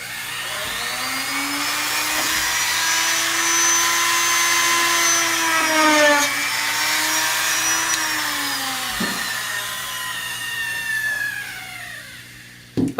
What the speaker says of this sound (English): I'm going to turn it on and drill straight through until I get to the wood block